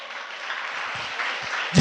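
Congregation applauding during a church baptism sermon, a steady wash of clapping at moderate level that swells slightly toward the end.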